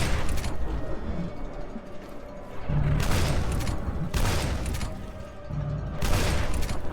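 Weapon fire in the game FEAR, heavy booming bursts and dense rumbling blasts that swell in repeated waves, loud and continuous throughout.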